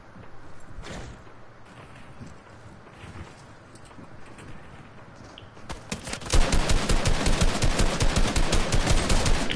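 Rapid automatic gunfire from an Uzi and tactical shotgun in the video game Fortnite, a dense close burst of shots that erupts after quieter ambient game sounds.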